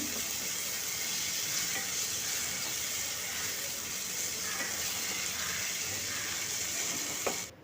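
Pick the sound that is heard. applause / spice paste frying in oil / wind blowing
spice paste frying in oil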